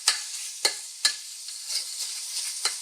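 Ground pork browning in a hot pan for zhajiangmian, a soft, steady sizzle broken by a few sharp scrapes of a utensil stirring and breaking up the meat, close by and fairly quiet.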